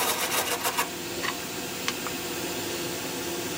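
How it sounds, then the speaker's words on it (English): A spindle gouge cuts into a turnip spinning on a wood lathe, giving a steady mechanical whir with a few quick rhythmic scraping bursts at the start and a brief tick later. "Let's see what I'm just using a spindle gouge"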